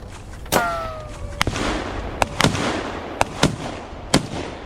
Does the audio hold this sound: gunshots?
yes